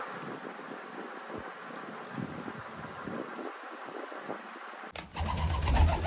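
Pigeons (female racing pigeons) coo softly in the background amid light wind rumble, with a sudden gust of noise near the end.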